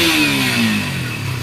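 A Suzuki Raider 150 Fi motorcycle engine runs close by after an ECU reset, a loud steady mid-pitched drone with a slight dip in pitch, ending in a faint pulsing idle.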